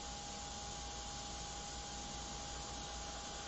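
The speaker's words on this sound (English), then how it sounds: "we're going to spray out this dark color" Airbrush spraying dark paint onto a fashion portrait, a steady, even hiss of compressed air that runs unbroken and fairly quiet throughout.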